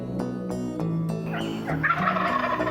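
Wild turkey toms gobbling outdoors, several loud rattling calls in quick bursts, with overlapping gobbles from more than one bird.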